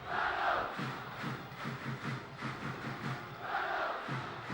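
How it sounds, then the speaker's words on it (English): Stadium crowd at a 2004 Leeds Rhinos v Salford rugby league match, a broad roar of cheering and applause that swells, dips and rises again, filling the ground from start to finish. "But a warm round of applause to the Rhinos."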